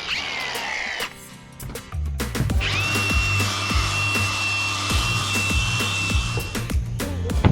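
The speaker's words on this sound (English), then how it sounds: "grind it down nice and clean up the edges a little bit" An angle grinder grinds down and cleans up edges on a Mako 171cc boat hull during restoration, spinning up to a steady high whine with repeated bursts and scraping pulses of contact, close and loud with no talk.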